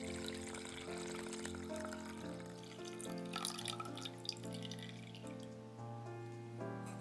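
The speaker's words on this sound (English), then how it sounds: "Then I strain it in a sieve." Dashi broth for soba dipping sauce is poured through a sieve, a continuous soft trickle and splash of liquid heard close and fairly quiet, with no talking.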